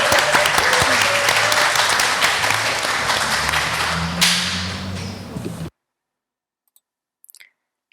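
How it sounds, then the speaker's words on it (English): A live podcast audience at Artlink Hull breaks into a full round of applause, dense and loud, tapering slightly before cutting off abruptly into near silence with a few faint clicks. "Can we have a little round of applause and a woo for this?"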